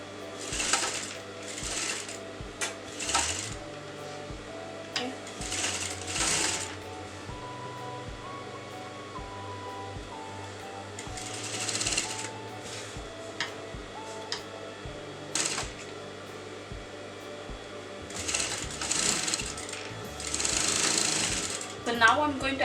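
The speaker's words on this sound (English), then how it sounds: "So little by little, I'm going to sew the neckline." A sewing machine stitches a kurta neckline in short bursts, its rapid mechanical whirring starting and stopping repeatedly while a person talks between runs.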